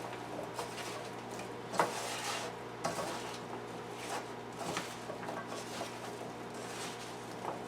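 Roasted vegetables being tossed by hand with garlic and seasonings in a bowl for the air fryer, giving soft continuous rustling and stirring with a few sharper clinks of the bowl, close and steady, with no talk.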